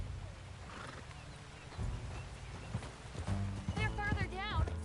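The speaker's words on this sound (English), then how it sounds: "Get on your horse." A horse in the video game Red Dead Redemption 2 snorts and whinnies as hooves clop along, with a character's voice briefly over the animal sounds and a sharp neigh near the end.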